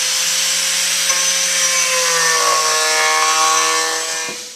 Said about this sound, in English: this router bit, when it's in there, I mean, it's extending out quite a ways, so you can't take a very heavy cut